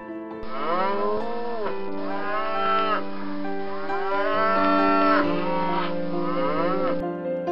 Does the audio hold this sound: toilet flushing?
no